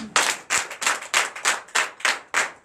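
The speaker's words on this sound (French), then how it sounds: "Donnez l'acclamation" A church congregation claps in unison, a steady rhythmic beat of loud collective claps, roughly four per second, with no talk over it.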